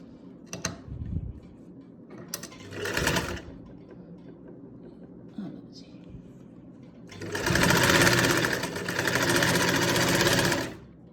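A sewing machine stitches garment fabric, running in short bursts at first and then in two longer, loud continuous runs with a rapid mechanical chatter, close by and without speech.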